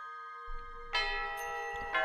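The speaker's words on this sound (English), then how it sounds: "Just then, the bell rang, signaling the end of lunch break." Electronic school bell chime from the visual novel game Iwaihime marking the end of lunch break, a clear sustained ringing tone that swells louder partway through and holds, with a faint low rumble beneath.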